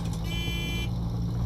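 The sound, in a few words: truck horn beeping in SnowRunner video game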